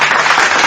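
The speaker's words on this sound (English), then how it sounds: "I put the applause in there" Canned applause sound effect fired from a soundboard, a steady burst of crowd clapping and cheering that fills the whole short moment at full loudness, with no talk over it.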